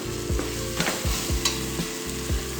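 Mint, coriander and cashews sauté in a pan for chicken biryani, a steady sizzle with a regular series of scraping stirs about every half second, close and moderately loud.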